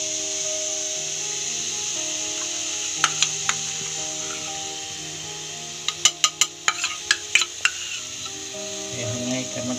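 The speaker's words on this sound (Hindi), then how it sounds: "ये टूटी फूटी डाल के हम मिक्स करेंगे" A spoon stirs a dry coconut barfi mixture with tutti frutti and ghee in a pan, giving faint scraping and soft clicking strokes, with a quick cluster of taps near the end over a steady low hum.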